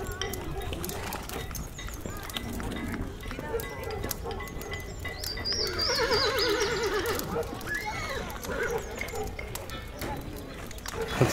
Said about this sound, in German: Konzentriere dich zuerst auf das Geräusch des Pferdes.